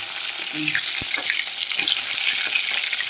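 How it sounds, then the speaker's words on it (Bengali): Chicken pieces fry in oil and rendered fat for biryani, making a continuous loud crackling sizzle with a few sharp pops and clicks, no talking. "এখন কি চিকেন ভাজা হচ্ছে"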